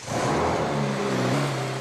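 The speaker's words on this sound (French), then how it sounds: "Une mise en route moteur pour les dernières vérifs, les ultimes contrôles." A DS3 R3 rally car engine, rated at 228 horsepower, starts up and revs, a loud, close, continuous mechanical roar that rises and holds throughout.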